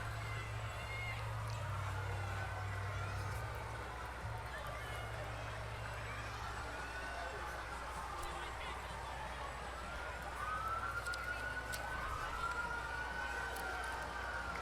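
Fire trucks from a local hose company sound their sirens at a St. Patrick's Day parade, with wailing siren sweeps rising and falling in the middle distance over a low engine rumble and street noise.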